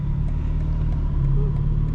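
A 2025 BMW M4 Competition xDrive on a cold day gives a low, steady engine rumble with faint exhaust burbles, heard from inside the car.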